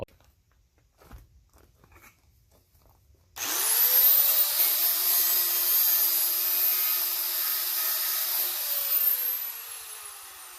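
Quiet shuffling, then a power cutting tool starts and runs steadily with a high whining screech as it cuts a sheet metal fender patch panel, close by.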